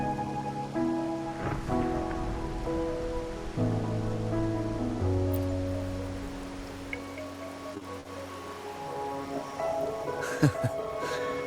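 Rain falls steadily in a Wuthering Waves game scene, a soft continuous patter running beneath sustained melodic music throughout.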